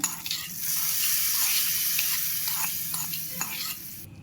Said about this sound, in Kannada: ನೋಡಿ, ಇದಕ್ಕೆ ಒಗ್ಗರಣೆ ಹಾಕೊಂಡ್ಬಿಡೋಣ.